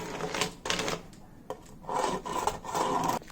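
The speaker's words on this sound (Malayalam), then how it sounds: "അപ്പൊ ഇതാ ഞാൻ ഈ ഷേപ്പിലൊന്ന് കട്ട് ചെയ്തെടുക്കുവാണ്" Scissors cut a piece of sack cloth into a round shape, giving close, rough rasping and scraping strokes in short bursts with brief pauses between.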